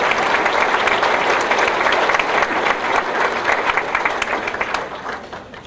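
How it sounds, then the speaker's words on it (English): Loud, sustained applause from a large crowd at a dinner, dense clapping that holds steady and tapers slightly toward the end. "Let's give all these folks a round of applause."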